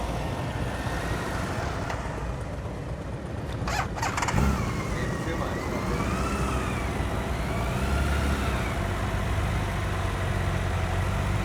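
A motorcycle engine runs at low revs during slow-speed riding practice, a steady idle-like rumble with a brief louder burst partway through, with a faint whine riding over it.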